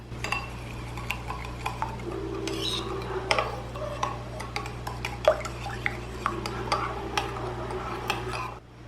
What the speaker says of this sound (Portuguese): misturar com a colher para ajudar a hidratar o fermento